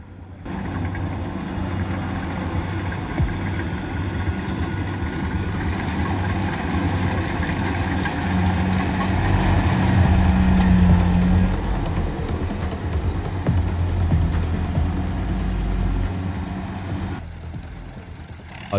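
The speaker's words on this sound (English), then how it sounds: "The Kubota 68 King Harvester features a powerful engine and a massive build, moving from one field to another." A Kubota 68 King rice harvester works with its engine running, giving a continuous, loud low rumble with a mid-range drone. The engine swells slightly midway and holds steady throughout.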